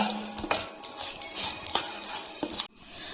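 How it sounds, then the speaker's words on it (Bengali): A spoon stirs and mixes a vegetable sandwich filling seasoned with black pepper powder in a bowl, giving several sharp clinks and scrapes against the dish at an irregular rhythm, close and fairly quiet. "এখন আমি ভালো করে মিশিয়ে নিই।"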